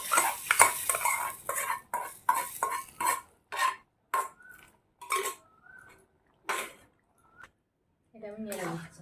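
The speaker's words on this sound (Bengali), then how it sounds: "এটা আমি নেড়ে দিচ্ছি" A spoon stirs and scrapes dhaba-style egg tadka in a metal pan, giving a run of close, irregular clinks and scrapes; speech overlaps much of it.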